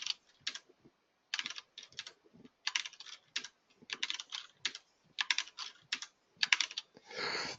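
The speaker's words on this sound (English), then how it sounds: "Still a lot of typing." Computer keyboard typing in quiet short bursts of rapid clicks separated by brief pauses, fairly close and alone, ending in a longer run of keystrokes.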